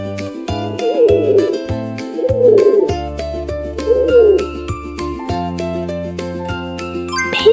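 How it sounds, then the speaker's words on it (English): A pigeon coos three times in soft, warbling bursts, set against bright tinkling jingle music that keeps playing throughout. "Pigeon! Perfect!"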